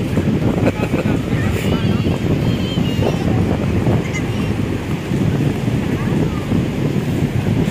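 Strong sea breeze at Bagasbas beach buffets the microphone in a constant loud rumble, with surf washing underneath and people talking faintly in the background.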